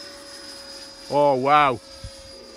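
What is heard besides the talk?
Freewing Typhoon 90mm model jet flying at full throttle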